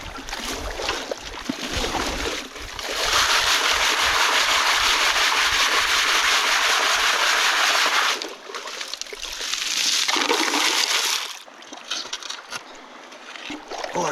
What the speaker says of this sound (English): Oh, it's crunchy on that shovel.